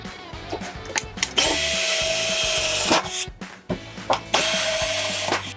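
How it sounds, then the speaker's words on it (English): A power drill bores holes for bolts through an E-Track backing plate, in two sustained, close, loud bursts of whirring with clicks and handling knocks between them. "drill holes for the bolts"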